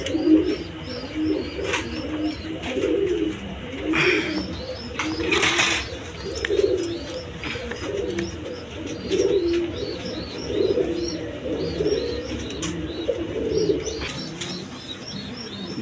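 Pet pigeons in a home loft, including white-eyed birds and a pair of downface pigeons, coo in overlapping murmurs alongside scattered chirps and a brief flutter of wings, steady and fairly close throughout.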